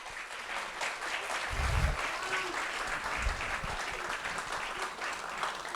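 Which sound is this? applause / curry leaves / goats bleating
applause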